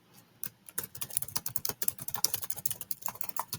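Someone types on a computer keyboard, writing the body of an email, with quick close-up clicks in an irregular rapid patter that runs steadily throughout and no voices.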